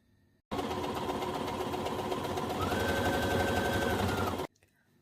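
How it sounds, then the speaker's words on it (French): A sewing machine stitches around the armhole of a jersey dress, running in one steady, fast, continuous whir for about four seconds before stopping abruptly, with quiet room sound before and after. "je vais pouvoir piquer tout le contour de mon emmanchure à 1 cm avec le point qui est adapté au jersey"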